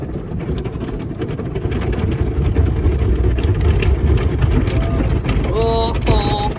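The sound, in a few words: automatic car wash running over a blue Ford car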